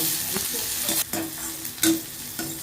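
Green chillies and shallots fry in a pan with a continuous soft sizzle. A few sharper scraping stirs and clinks break in at intervals.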